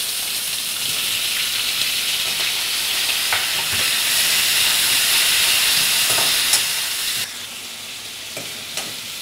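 Tomatoes roast in a pan with a steady, close, bright sizzle and hiss, interrupted by occasional scrapes and stirring clicks; the sizzle drops somewhat in level near the end.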